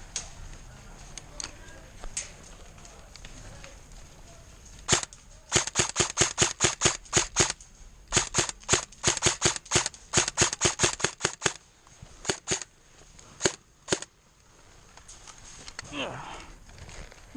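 Airsoft M14 rifle firing a long run of sharp, loud shots, some in quick clusters and some spaced apart, ringing out close by with brief pauses between volleys.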